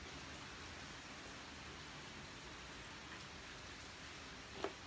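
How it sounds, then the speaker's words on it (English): Steady rain pours down outdoors, a dense even hiss of drops on surfaces, fairly quiet, with one brief sharper tick near the end. "Oh man, that rain is horrid"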